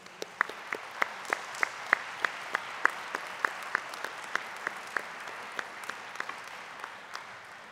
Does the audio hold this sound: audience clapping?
yes